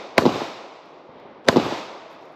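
Two sharp pistol shots ring out at a shooting range with a Tenicor Velo Lux holster, spaced about a second apart. Each crack is loud and close and leaves a short, fading echo, with no talking.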